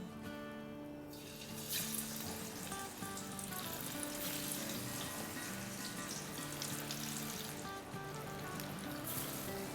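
Masala-coated fish pieces going into hot oil over medium-high heat, a continuous bubbling sizzle with a watery hiss that stays steady for the whole stretch, close but fairly quiet, with no voices.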